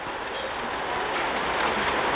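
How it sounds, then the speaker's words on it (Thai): Steady rain hisses evenly throughout, a dense broadband wash of falling water with no voices, seeming to fill the space around. "ได้ยินไหมครับ เสียงมานู่นนะ ไม่เสียงน้ำตกนะเสียงฝนครับ"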